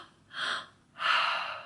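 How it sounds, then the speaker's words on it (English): Two deep breaths from a breathwork session, a sharp inhale followed after a short pause by a longer breathy exhale, close to the microphone and alone. "you lay down and you breathe a belly breath, a chest breath, and an exhale."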